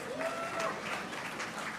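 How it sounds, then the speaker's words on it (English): Brief, fairly faint applause from the audience at a university convocation ceremony, a steady wash of clapping with no clear start or end. "Give them a big round of applause, guys."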